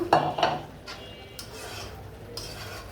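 Spoon clinks and scrapes against a pan as pre-fried shoil fish is added and stirred for a bottle gourd curry, a few quick metallic knocks close by, then softer scraping with only a faint sizzle beneath.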